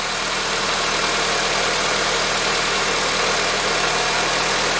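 A Honda Civic engine idles steadily and close by, a constant even rumble with no voices and no change in speed.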